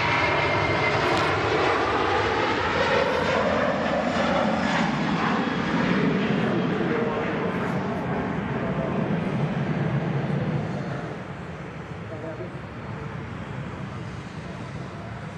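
An Aer Lingus Airbus A330 airliner passes at Manchester Airport, its engines a loud, steady roar with drifting whine that holds for about ten seconds and then eases slightly as it moves away.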